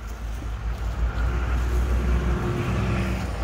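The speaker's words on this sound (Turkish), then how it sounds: "Kamyonmuş." A truck drives past on a rural road at night, a steady deep low rumble that swells and holds close by, with wind buffeting the microphone and no voices.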